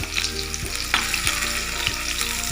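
Potatoes frying in plain hot oil give a steady, dense sizzle with faint crackles, and a utensil taps and stirs now and then; no voices.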